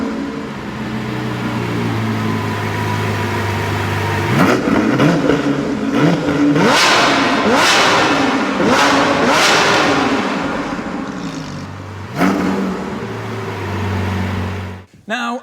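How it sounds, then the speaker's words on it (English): A Lamborghini Sian FKP 37's 6.5-litre V12 idles through its exhausts, then revs hard in several rising, swelling blips before settling back to a steady idle and shutting off near the end, loud and close. "rocket launcher style exhausts, which blast out the sound of that glorious V12 engine"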